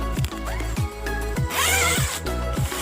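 Zipper on the rear of an Antares 4-person outdoor tent with an aluminium-alloy frame being pulled open in several close, loud rasping strokes, each a short burst followed by a pause.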